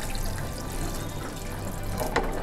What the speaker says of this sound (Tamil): இப்போது இதில் வந்துட்டு நம்ம இன்னும் கொஞ்சம் தண்ணியை சேர்த்துக்கலாம்.